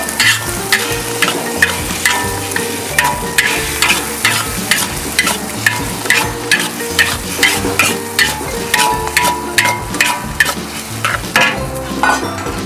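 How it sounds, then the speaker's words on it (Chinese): Bitter melon and eggs stir-fried in a hot wok with oil, a loud continuous sizzle punctuated by rapid, rhythmic scraping and tossing strokes of a spatula. "要快炒，看看。"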